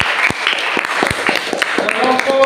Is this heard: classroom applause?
yes